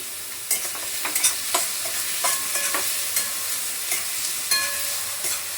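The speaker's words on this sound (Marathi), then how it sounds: "आता कांदा थोडासा परतलाय तेच टोमॅटो पण टाकून घेते आणि ते जरासं मीठ घालते." Onion and tomato with salt sauté in a pan, with a close, steady sizzle broken by frequent clattering stirs of a spoon against the metal, no voices.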